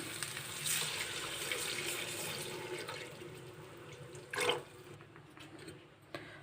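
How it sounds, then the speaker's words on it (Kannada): Half a litre of milk pours steadily into a pan for coconut rava kheer, making a continuous liquid splashing and trickling that runs alone and close, with a brief louder splash near the end. "ನಾನು ಅರ್ಧ ಲೀಟರ್ ಹಾಲು ಹಾಕೊತಾ ಇದ್ದೀನಿ"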